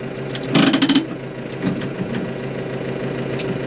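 A New Holland T4.65 tractor engine idles with a steady, low chugging rumble; a brief louder rattling burst rises early on before settling back to an even idle.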